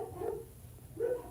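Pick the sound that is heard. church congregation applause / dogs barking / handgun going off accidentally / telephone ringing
dogs barking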